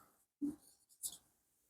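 Chalk or marker strokes on a board during a physics lecture, two or three short faint scraping strokes separated by brief pauses in a quiet room.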